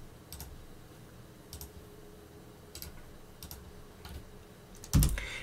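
Someone types a command on a computer keyboard, giving sparse, soft key clicks spaced out over a few seconds and ending in one louder keystroke, close by and without voices.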